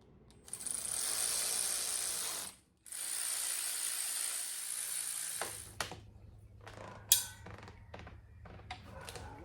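A ratchet tightens nuts on truck U-bolts, giving a close, loud, fast run of clicking that pauses briefly and resumes, then slows into a few separate clicks and clanks.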